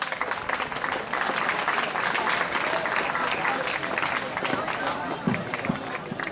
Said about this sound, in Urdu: آپ تالیاں بھی تو اسی انداز میں بجائیں نا